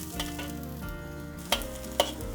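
Dried shallots sizzling in hot oil in a wok for Toisan-style taro cake, a steady close frying hiss with two sharp stirring clanks near the end.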